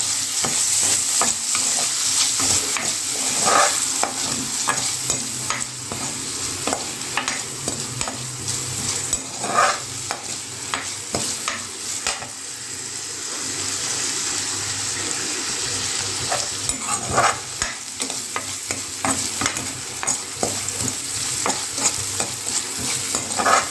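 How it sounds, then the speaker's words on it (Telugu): Onions frying in oil and ghee in a pan: a continuous close sizzle, broken up by repeated scraping and stirring strokes, with no one speaking. "హీట్ ఎక్కిన తర్వాత ఆనియన్స్ అనేది యాడ్ చేసుకొని ఫ్రై చేసుకోవాలి"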